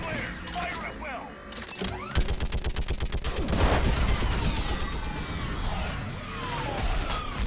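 Rapid bursts of automatic gunfire from the video game Mass Effect 3 rattle in a steady volley amid sci-fi mechanical whooshes and explosions, loud and dense, with game music and effects layered underneath.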